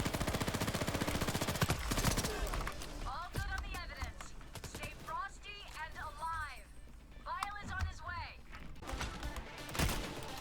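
Rapid gunfire in a co-op heist shooter, with dense bursts of shots near the start and scattered shots later, mixed with shouting voices and clattering action throughout.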